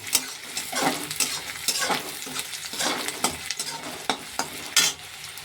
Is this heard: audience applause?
no